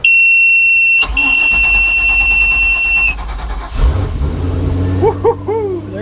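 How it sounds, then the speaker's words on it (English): A high electronic beep, then a starter cranks and a boat's starboard engine catches and rumbles to life, loud and close, with a few chirps over it. "let's try starboard engine"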